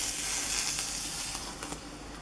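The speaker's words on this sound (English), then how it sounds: "If you hear sizzling on the straightener, it's just the water on it, so just don't freak out when it sizzles." Water sizzling on a hot hair straightener pressed on a doll's wet hair, a continuous faint hiss with a few small crackling pops, no voices.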